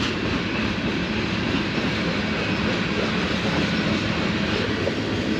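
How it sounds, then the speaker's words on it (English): Slow-moving train passing close by near Moyie Lake, a loud steady rumble of rail cars with faint clickety-clack wheel noise throughout, no talking. "I could hear this train coming for so long, but it's moving pretty slow."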